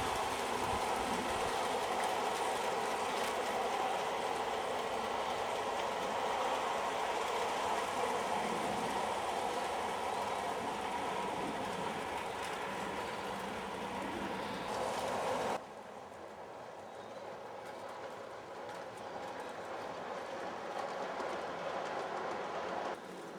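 A hand-built model Cornish Riviera Express rolls through a tunnel on a garden railway in Surrey, giving a steady, close rumble with a dense wash of wheel and track noise that drops in level near the end.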